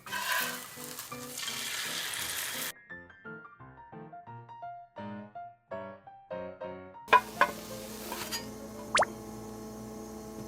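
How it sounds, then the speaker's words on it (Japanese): Egg mixture for a Japanese rolled omelette sizzles in a frying pan, a soft, close hiss that drops away for a stretch of melodic tones before returning with scattered light clicks and taps. "流し入れたら卵に火を入れて巻き、同じ工程を繰り返して卵焼きを焼きます"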